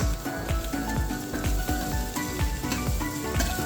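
Egg and rice stir-fry on a curved induction stove, a steady close sizzle broken by a rhythmic series of ladle scrapes and tosses, about two per second, with no speech.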